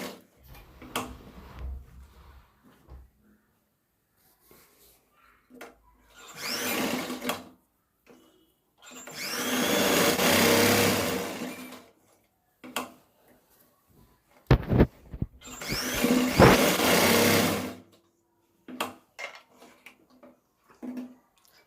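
Electric sewing machine stitching the tucks of a lined four-tuck blouse, running in several loud bursts of a few seconds each, separated by pauses filled with small ticks and handling of the fabric; no voices.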